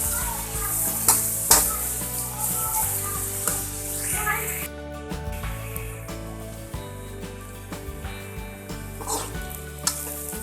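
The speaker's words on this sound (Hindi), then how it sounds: "प्याज ऐड करेंगे, फ्राई करेंगे। प्याज फ्राई करेंगे।" Onions fry in a pan for a tinda sabzi, a steady close sizzle with repeated clinks and scrapes of stirring scattered through the sound.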